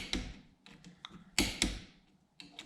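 A torque wrench works over the bolts on a Bobcat 763 drive motor, giving a few sharp metallic clicks and taps spaced irregularly, close and alone.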